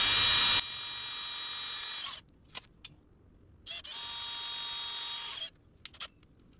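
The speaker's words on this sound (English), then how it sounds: "you want to drill these holes straight in" A power drill whines at high speed in two sustained bursts, drilling holes into a boat transom for a transducer mount, with short quiet pauses and small clicks between them, close to the microphone.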